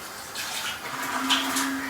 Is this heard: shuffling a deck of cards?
no